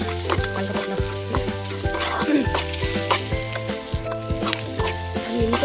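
Shrimp and potatoes fry in a pan after turmeric powder is added, giving a steady close sizzle with occasional stirring scrapes and a faint rhythmic background pulse.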